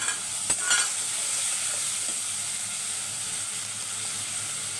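Tomatoes sautéing in a pan with a steady soft sizzle and hiss, a couple of brief stirring clatters near the start, then continuous even frying noise with no voices.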